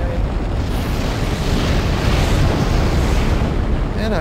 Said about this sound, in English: This is too much fire. It's a pretty loud fire.